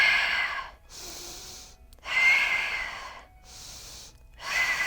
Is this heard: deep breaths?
yes